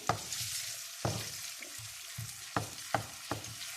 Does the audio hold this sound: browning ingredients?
yes